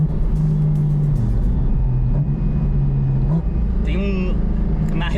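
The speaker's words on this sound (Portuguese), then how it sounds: "Na redução você sente essa chupada na admissão ali que é legal demais também." A track-day car engine at close range with a steady low drone, then a brief rising intake rush as the driver downshifts near the end, under a person talking throughout.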